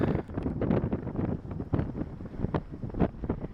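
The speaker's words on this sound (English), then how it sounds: "It's kind of windy over here though, huh?" Gusty wind buffets the microphone in uneven rumbling bursts at Badlands National Park, a rough outdoor roar with no voices.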